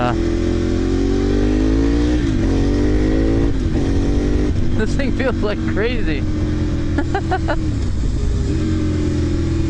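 A 2008 Ducati 848 sport motorcycle engine revs loudly and steadily, its pitch climbing and dipping, while someone talks over it.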